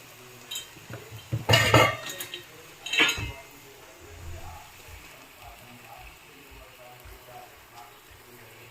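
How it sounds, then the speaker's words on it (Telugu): Sliced onions sprinkled with salt are stirred in a frying pan: a metal spoon clatters loudly against the pan in two bursts, then fainter scrapes follow over a soft background. "ఇలా చల్లి దగ్గరుండే వేయించాలి."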